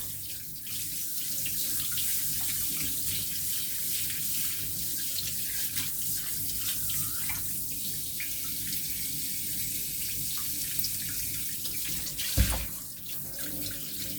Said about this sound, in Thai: เปิดน้ำอุ่นล้างจ้า